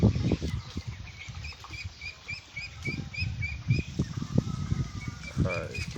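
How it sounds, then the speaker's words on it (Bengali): A flock of month-old ducklings in a farm pen: soft, repeated high peeps and chirps over constant low rustling and patter, with occasional louder calls scattered through. "এগুলো সব আমার হাঁস। এগুলোর বয়স আজকে হচ্ছে 1 মাস 3 দিন।"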